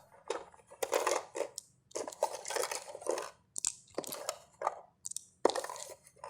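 Handfuls of plastic dice from a Colony board game box being grabbed and shuffled by hand, a rapid series of close, quiet clattering rattles in short bursts with brief pauses.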